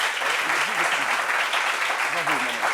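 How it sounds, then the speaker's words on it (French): A studio audience applauds a mother with dense, steady clapping, while a voice speaks over it near the start and again near the end. "Je voudrais qu'on applaudisse sa mère là."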